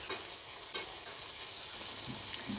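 Onion frying in oil for a village-style dish, a faint steady sizzle broken by a few soft stirring knocks.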